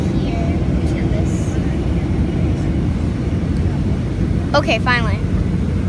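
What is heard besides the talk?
jet airplane cabin noise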